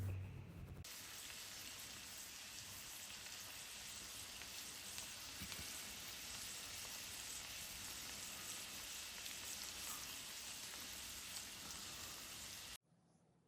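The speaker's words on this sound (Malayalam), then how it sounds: "എണ്ണ നന്നായി ചൂടായതിനു ശേഷം പ്രോൺസ് ഓരോന്ന് അതിലേക്ക് ഇട്ട് കൊടുക്കുക." Prawns for a Kerala-style roast dropped into hot oil crackle and hiss in a steady, dense sizzle that rises sharply at the start and continues evenly for several seconds, fairly quiet, before cutting off abruptly.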